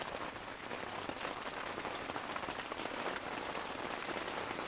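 Steady rain drums on a tent at night during a fishing trip, a dense continuous patter with no voices.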